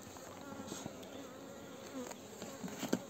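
Bees buzz faintly around a beehive, a steady quiet drone with occasional closer insects passing by.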